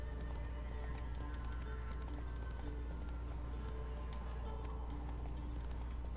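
A horse gallops in The Witcher 3 game, with quick rhythmic hoof clip-clops over a steady low hum and occasional neighing, fairly faint throughout.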